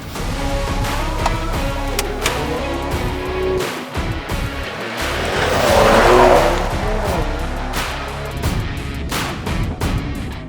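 Mercedes-AMG E53 4MATIC Plus Cabriolet on the move, engine roaring and rising with a swelling passage of tire noise midway, loud and close with music underneath.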